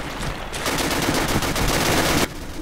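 Sustained rapid gunfire from the Darkest Hour game, a loud continuous burst of overlapping shots lasting about two seconds, then cutting off.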